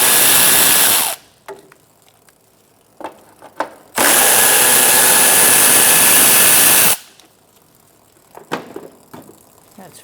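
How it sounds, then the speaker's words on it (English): A ratchet with a 10mm socket removes the radiator fan shroud bolts on a 1978-1987 Chevrolet El Camino. Two loud, close whirring bursts of about three seconds each are separated by light clicks and clatter. "Using a 10mm socket again,"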